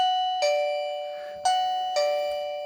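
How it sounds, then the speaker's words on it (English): An AI Belleye video doorbell camera chimes as it is plugged into a PC: three clear ding-like tones with long ringing decays, loud and close, with no talking. "So once this plugs in, it's supposed to chime."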